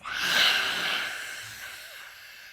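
During a kids' yoga warrior routine, a single long breath is pushed out through the mouth, rising quickly to a breathy rush and then trailing off softly over a couple of seconds.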